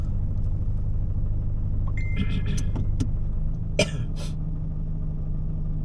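Oncoming trucks pass a stopped vehicle on a road in Barangay Bulo, Labrador, Pangasinan, giving a steady, loud, low engine rumble. A few brief knocks and rattles sound partway through.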